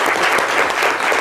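A studio audience at a TV show claps steadily and densely, loud and close, a continuous wash of applause with no voices over it.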